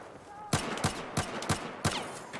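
Five sharp gunshots from Battlefield 1 crack out in an even rhythm, moderately close and fairly quiet.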